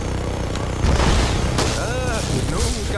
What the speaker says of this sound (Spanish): Nunca me canso de las explosiones.